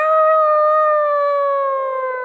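A voice imitates a dog's long, terrible howl, a single sustained wavering tone that slowly falls in pitch, close and alone.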